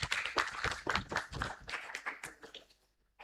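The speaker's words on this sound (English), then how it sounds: "Please welcome him with a warm round of applause" An audience applauds in a university auditorium at an orientation programme, welcoming a guest speaker; dense clapping swells across the room and then thins out near the end.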